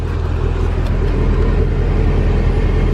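Mercedes C63 engine idling steadily with a deep, constant low rumble, loud and close throughout, with no talk.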